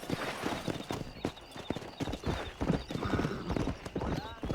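Horse hooves clip-clop in a brisk, irregular rhythm while riding in the Red Dead Redemption video game, close and fairly loud, with a horse whinny and speech mixed in.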